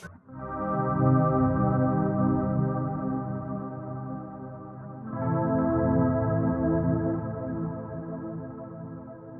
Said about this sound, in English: For this stereo pitch shifting effect. And then the delay.